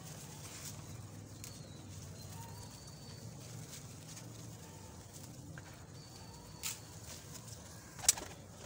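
Pet pigeons offered for sale coo softly and shuffle about amid low background noise, with a faint bird call and a sharp knock near the end.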